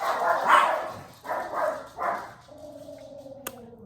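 Dogs bark indoors in three loud, close bursts, followed by softer whining tones and a sharp knock.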